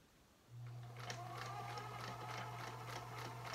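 A sewing machine stitches a seam joining two fabrics for a headband-style bonnet, starting after a short pause and running steadily with a constant motor hum and rhythmic needle ticking, fairly close.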